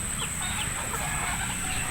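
Chickens on a farm make faint clucking calls, scattered short notes against a constant background hiss, with no talking.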